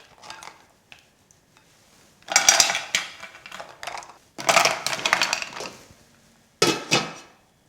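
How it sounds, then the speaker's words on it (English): Mussels tossed into an empty metal pan: bursts of clattering, rattling shells against metal, coming in three loud clusters separated by quieter moments, close and without talk. "I have an empty pan which I'm just going to throw my mussels"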